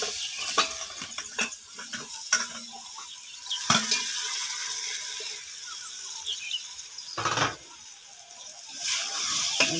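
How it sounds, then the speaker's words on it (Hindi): Stuffed ridge gourd (turai) fries in a pan with bursts of crackling sizzle and a few stirring knocks and scrapes, fairly close and moderately loud. "इसको अच्छी तरह से भून लेंगे। दोस्तों अब तुरई डाल देंगे"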